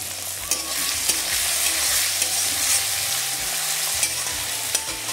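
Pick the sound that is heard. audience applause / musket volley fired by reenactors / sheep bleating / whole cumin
whole cumin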